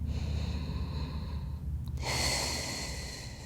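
Deep, controlled breathing during a postpartum core workout: a long audible exhale, a brief pause, then a fuller airy breath heard close and alone.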